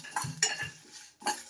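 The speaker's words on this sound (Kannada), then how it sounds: "ಎಲ್ಲ ಥರದ ಸ್ಪೈಸಸ್ ಹಾಕ್ಬಿಟ್ಟು ನಾನು ನೀಟಾಗಿ ಫ್ರೈ ಮಾಡ್ತಾಯಿದ್ದೀನಿ" Red chillies, black pepper and whole spices fried in a pan, heard as a few quick metallic clinks and scrapes of a utensil against the pan, close and fairly soft.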